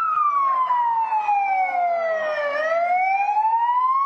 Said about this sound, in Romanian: Mașinile de poliție au trecut și ele în goană la culoarea roșie a semaforului